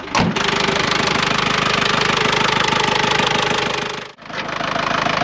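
Camper van engine running steadily just after a cold start on a freezing winter morning, a loud continuous rumble with a rhythmic knocking pulse, briefly dipping near the end before resuming.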